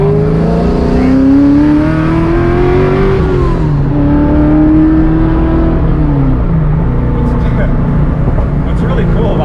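Naturally aspirated Coyote-swapped Foxbody Mustang making 530 wheel horsepower, its engine and exhaust droning loudly as revs rise and shift through gears from inside the car, with people talking over it.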